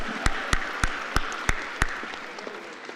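Audience at a college fall convocation ceremony clapping, about six distinct close claps spaced regularly over a few seconds, with a faint background murmur.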